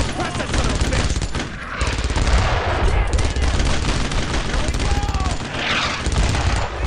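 Sustained suppressing gunfire in the World War II shooter Brothers in Arms: Road to Hill 30, dense rapid rifle and machine-gun bursts with booming impacts, loud and continuous, with shouted voices mixed in.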